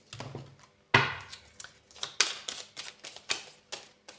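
A tarot card is drawn and laid down: a quiet run of sharp, dry taps and clicks at an irregular rhythm, close by, with no one talking.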